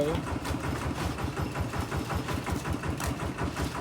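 Small single-cylinder walking tractor engine idling outdoors in a steady rapid chug, loud and close throughout, with faint voices mixed in.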